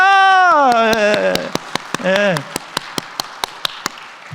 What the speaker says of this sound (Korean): 박수 칠 때는 제대로 치셔야 돼요.